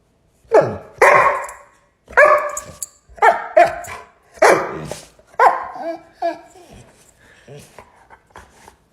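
A person barks at a pet dog and the dog answers with a run of loud, close barks and yips. The barking comes in repeated bursts over several seconds, with voices mixed in.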